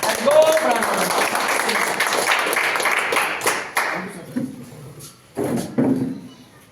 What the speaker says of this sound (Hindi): एक सर के लिए जोरदार तालियां।